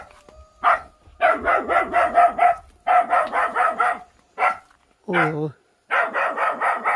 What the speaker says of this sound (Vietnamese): cái con cún nó chào hỏi.